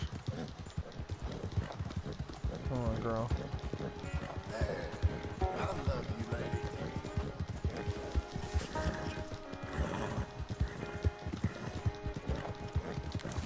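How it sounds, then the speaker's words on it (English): Horse hooves clip-clop steadily in a PS4 video game, a continuous rhythmic gallop with an occasional whinny, while someone talks to the horse over it. "I'm about to ride the shit out of this fucking horse."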